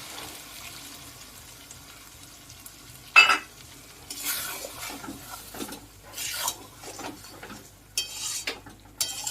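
Sour yogurt goes into chicken in a pan and is stirred in: quiet scraping and sloshing with sudden louder bursts of spoon strokes against the pan, over a soft background sizzle.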